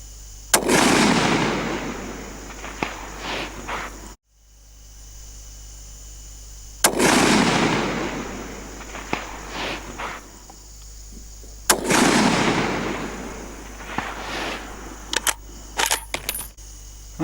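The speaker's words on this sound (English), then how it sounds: "take a few shots up there at 600 and see how we go" Three loud, sharp rifle shots ring out about five seconds apart at a long-range shooting setup aimed at a LaRue target 600 yards away, each crack followed by a long fading echo rolling back across open ground.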